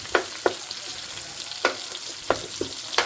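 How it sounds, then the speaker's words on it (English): Chiles frying in a pan in a home kitchen, a soft background sizzle broken by a handful of sharp clacks and scrapes, likely a spoon stirring, spaced irregularly and fairly close. "I want the chiles to fry a little bit before I put the onions."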